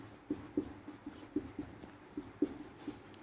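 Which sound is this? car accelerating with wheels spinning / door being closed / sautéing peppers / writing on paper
writing on paper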